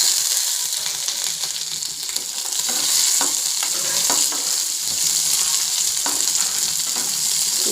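Onion fries in hot oil with mustard seeds, urad dal, crushed garlic and chana dal, giving a loud, steady, hissing sizzle with spatters and occasional stirring scrapes.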